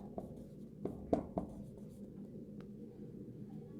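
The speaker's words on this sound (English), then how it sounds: "if I write a name of a person as Karim" Hand writing during an English grammar lesson: a few short, soft pen strokes and scratches near the start, then quiet.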